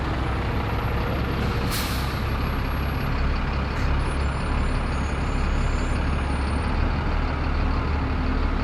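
A large bus reversing out of a Wakefield bus station, with a steady engine rumble throughout, a sharp hiss of air brakes and a few faint high beeps.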